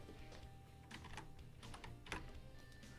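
Quiet, steady keystrokes as code is typed on a computer keyboard, in short irregular bursts of clicks with no talking.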